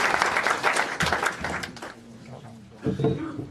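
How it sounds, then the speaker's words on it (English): Applause from the audience at a council meeting for the whole team, a burst of clapping that fades after about two seconds. Scattered voices and chatter follow. "Let's give a round of applause for the whole team."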